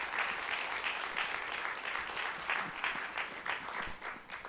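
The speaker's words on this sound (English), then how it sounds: "Yes, clap." An audience at a book talk breaks into steady applause, many hands clapping together in a dense, even wash that holds for several seconds without talk.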